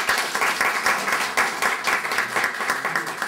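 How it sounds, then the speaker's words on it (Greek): Audience applause at a tavern gathering on Ano Syros during an association's pie-cutting and election event, a steady dense clapping that swells in bursts and stays loud throughout. "Να χειροκροτήσουμε τη βράβευση"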